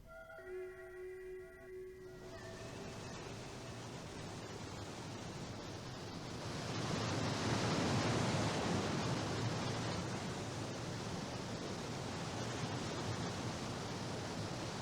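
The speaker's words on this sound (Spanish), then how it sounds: "El agua en movimiento arrastra escombros llevándolos de los niveles altos a los inferiores." Water rushes through rapids and streams between Finnish lakes, a dense steady roar that swells louder midway, with a few sustained musical tones fading out at the start.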